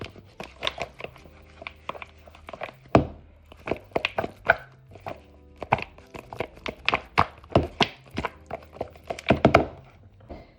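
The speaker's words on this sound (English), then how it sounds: "So now I'm gonna sprinkle some all-purpose flour over them. Shake them up." Chicken feet and necks get shaken in all-purpose flour, making a run of irregular thumps and knocks, close and fairly loud, with brief pauses between clusters.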